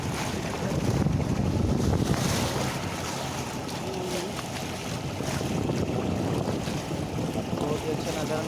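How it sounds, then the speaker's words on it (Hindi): Boat crossing the Ganges River at Varanasi, a steady rush of water and hull noise buffeted by heavy wind on the microphone, continuous throughout with faint voices underneath. "नाव से हम लोग उस पार जा रहे हैं।"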